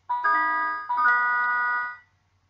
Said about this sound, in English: It sounds quite music box-like